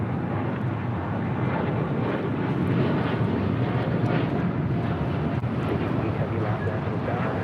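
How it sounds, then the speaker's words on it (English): A Japan Airlines Boeing 787-9 Dreamliner takes off from LAX bound for Tokyo Haneda, a steady, loud jet engine roar with wind buffeting that holds through the whole stretch. "This is Japan Airlines Flight 15 taking off to Tokyo Haneda on a 787-9 Dreamliner."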